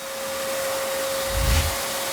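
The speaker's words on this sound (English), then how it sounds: "So I got a vacuum, I got two different attachments." A vacuum cleaner runs while cleaning dusty butcher block countertops, a steady close whine with a constant tone and a brief low bump partway through, no voices.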